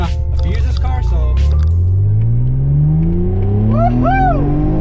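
A 1997 Mitsubishi 3000GT VR4 sports car engine revs up from a dead stop, its pitch climbing steadily as it accelerates, with a brief voice near the start and a whirring whine later.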